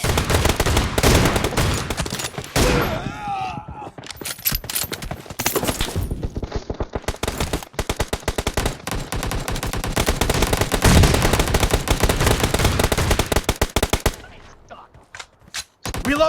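Loud, nearly continuous gunfire from a team shooter video game, including shotgun blasts, rattles in rapid bursts with brief gaps, and game voices sound in places.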